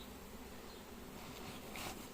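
A honeybee swarm being collected from the ground beside a cardboard box in Combs-la-Ville gives a faint, steady buzzing hum, low in level and continuous, with a brief brighter rustle near the end.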